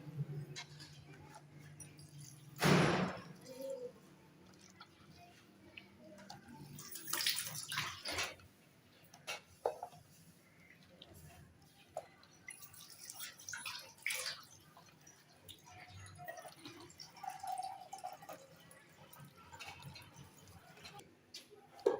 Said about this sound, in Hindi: तो अब मैं इस टाइम ये मिल्क पैक का डब्बा डालूंगी।